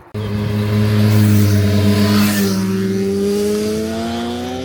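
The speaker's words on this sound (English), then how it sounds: "there's a nice Audi that just went by me" An Audi drives past along a village street in Vojvodina, Serbia, its engine note rising loud and close, then its pitch sliding down as it pulls away, with no voices.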